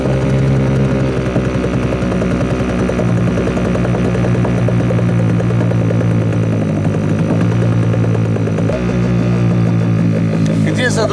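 An outboard motor running just after starting in cold weather with the choke fully open, a loud, steady close-up drone with a constant rattling rhythm and no talking over it.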